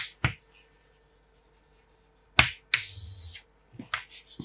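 Pen or chalk strokes while writing chemical symbols, heard as a few sharp taps and one longer scratching stroke, close and fairly loud, with no voice over them.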